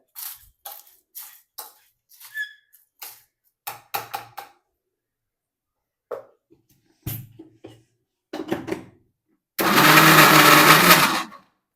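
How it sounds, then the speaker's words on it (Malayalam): Kitchen blender whirs loudly for about two seconds near the end, grinding moringa leaf chutney with pappadam, after a run of short clicks and knocks from handling the jar. "ഒന്ന് ബ്ലെൻഡ് ചെയ്യുക"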